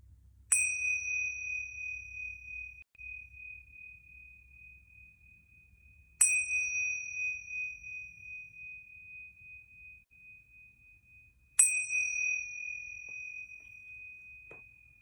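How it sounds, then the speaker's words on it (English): Yoga bells are struck three times at even intervals, each a bright clear ding that rings out and slowly decays in a quiet room. "I'm going to ring these yoga bells 3 times"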